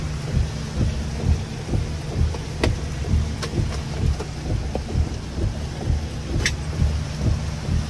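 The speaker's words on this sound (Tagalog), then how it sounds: "Lakas dito ng ulan." Heavy rain pours steadily, a dense hiss with low rumbling underneath and a few sharp cracks standing out.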